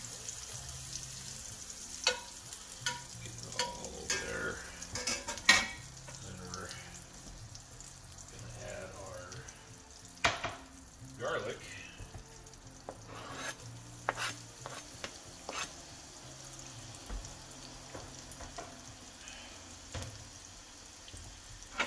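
Butter for Tuscan butter shrimp sizzles gently in a pan, a low, quiet hiss with sporadic clinks and scrapes from stirring and brief splashy sounds, close and fairly soft.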